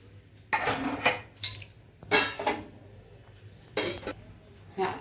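A lid is set down over a pot of freshly cooked coconut rice sweetened with jaggery in a home kitchen, giving several sharp metallic clanks and scrapes in short bursts, fairly close and loud.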